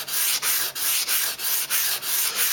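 Kitchen knife scraped over sandpaper in repeated even strokes, about eight rhythmic rasping passes close to the mic with brief gaps between them, no talk.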